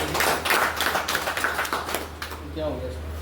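Audience clapping at a business weekly meeting for the IMC industry, a short burst of close hand claps filling the room while a steady low hum runs underneath.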